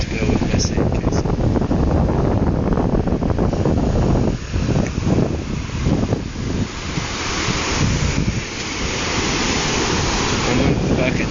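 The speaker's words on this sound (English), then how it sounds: "so the waves can finish their job" Pacific Ocean waves wash up a beach around a sandcastle, a loud, continuous roar of surf with rolling surges, heavy wind buffeting over it throughout.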